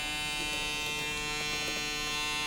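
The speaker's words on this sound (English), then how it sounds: "this Recon clipper, all I can say is they are not loud, they are quiet, the vibration is wonderful." An Andis Recon hair clipper runs steadily, a fairly quiet, even electric buzz with a bright high hum and no variation, heard close with no talking.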